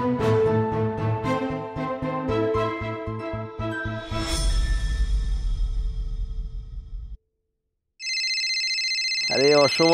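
A mobile phone rings with an incoming call, its electronic tone coming in after a stretch of music and a brief silence and sounding loud and close.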